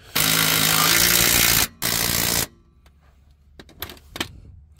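Power tool driving cross member bolts back into a Duramax truck during transfer case repair, two loud sustained bursts of whirring with a short break between, then faint clanks and rattles of handling parts.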